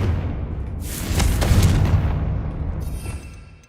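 A Confringo spell explosion in Hogwarts Legacy: a loud, close blast that builds into a deep booming roar with a crackling burst, then rumbles away and fades.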